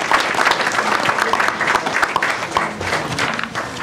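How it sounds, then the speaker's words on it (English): Applause rises from a small audience at a town building committee meeting, a dense patter of clapping that fills the whole moment without any talk. "I took your applause away."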